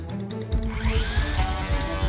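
A Skil plunge saw on a guide rail cuts into a panel, its motor giving a continuous loud, gritty roar with rhythmic low pulsing throughout.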